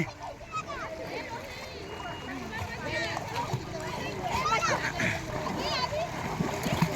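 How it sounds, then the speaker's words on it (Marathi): Sea water splashes irregularly as a child swims at Alibag beach, near and moderately loud, with children's voices and excited talk running over the splashing. "समुद्राच्या पाण्यात पहिल्यांदा पोहत आहे आज"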